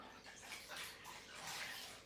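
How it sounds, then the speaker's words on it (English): Warm water pours and splashes steadily while rinsing soap off kitchen appliances, a continuous hissing wash that swells slightly toward the end. "We use some fresh warm water over here."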